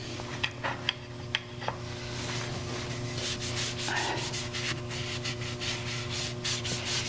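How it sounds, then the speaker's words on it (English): Wax rubbed onto a turned wooden mallet on a lathe: a steady scraping rub that runs continuously and close, after a few sharp taps at the start, with a constant machine hum underneath. "So let me put a little wax on this."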